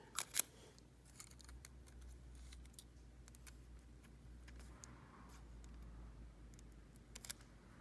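Small scissors snip a piece of nail-art material during a Minnie Mouse gel nail design, a couple of quick, crisp clicks near the start and end over a faint, steady background hum.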